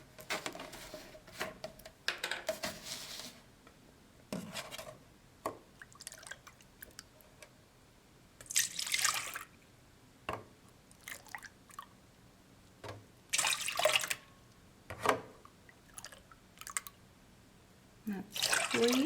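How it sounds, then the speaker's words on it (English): Milk is poured into a measuring cup, in short intermittent splashy bursts with dribbling pauses, for a first batch in a DASH Greek yogurt maker. The pours sound close and moderately loud, with no talking. "So let's measure the milk."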